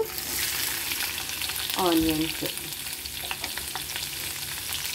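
Mustard seeds, cumin and red chillies fry in hot oil with a steady crackling sizzle, joined midway by a brief stirring scrape of a spoon against the pan, heard close with no talk over it.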